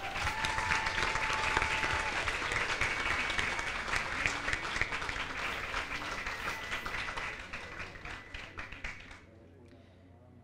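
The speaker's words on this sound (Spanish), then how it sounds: "¿Cómo no aplaudir de nuevo tan impresionante interpretación?" Sustained audience applause after a poetry performance at a school author event, steady clapping filling the room for most of the span before tapering off near the end.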